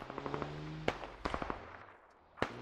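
Gunshots ring out in the military shooter game Squad: a rapid burst of shots at the start, then separate heavy cracks with echoing tails, punchy against the background.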